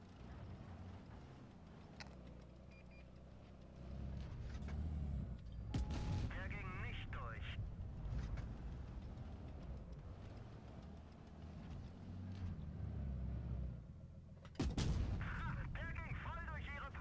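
Heavy tank cannon blasts firing high-explosive shells in a World of Tanks battle, with a couple of sharp, loud booms standing out over a constant rumble of engine and battle noise.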